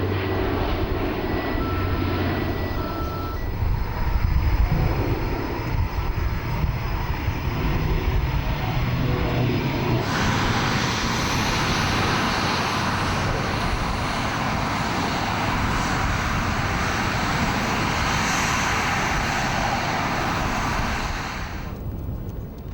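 Alenia C-27 Spartan medium military transport aircraft flying a handling display at the Paris Airshow: a continuous loud propeller-engine roar that swells midway as it passes close, then cuts off abruptly near the end.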